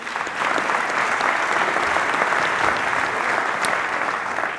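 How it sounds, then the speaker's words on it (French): An audience breaks into steady, loud applause, a dense wash of clapping that holds evenly throughout. "On peut l'applaudir."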